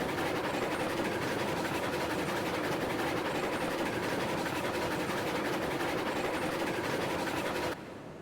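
A train rolls steadily in the railroad game Railroads Online, with constant clickety-clack and rumbling wheel noise throughout, cutting off abruptly just before the end.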